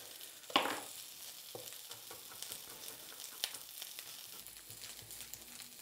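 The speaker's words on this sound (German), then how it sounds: "Olivenöl in die Pfanne und den Spargel hinein." Asparagus fries in olive oil in a pan with a faint, steady sizzle, broken by a few sharp clicks and utensil taps.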